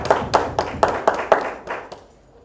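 A mushaira audience claps in a brief burst of about eight crisp, evenly spaced claps that fade out quickly, loud and close.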